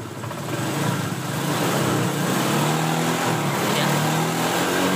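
A rebuilt Honda Vario 125 scooter engine, serviced for white smoke, starts and then runs at a steady, even idle, with a close, continuous hum and rumble and no talking.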